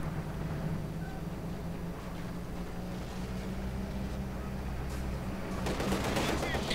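MG42 machine gun fire in a Company of Heroes 2 real-time strategy battle, steady rattling bursts under a busy mix of battlefield noise and engine rumble, moderately loud throughout with a denser crackle of shots near the end.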